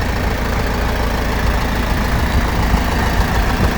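An LTZ-60AV tractor engine, recently rebuilt, idles steadily and loudly close by, a continuous low rumble with a faint knocking texture and no other sounds.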